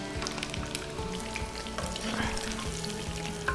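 Breaded chicken cutlets frying in oil in a pan for chicken parmigiana give a steady, close sizzle with fine crackles and pops throughout, fairly quiet and with no talk.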